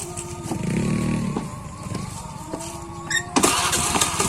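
A voice imitates a motorcycle engine, a buzzy rising and falling drone with a few sharp bursts near the end.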